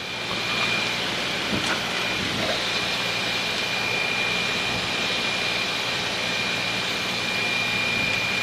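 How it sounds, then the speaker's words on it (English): A light training airplane on descent to land with power reduced, a steady droning engine hum with wind rush and a faint high whine, continuous and fairly loud throughout. "just reduce the power, and we'll let the airplane come down"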